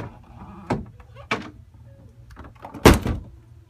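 A door fitted with a Lithonia EU2 door closer slams shut three times. Each slam is a sharp, heavy thunk at a separate, uneven interval, with a faint rattle in between.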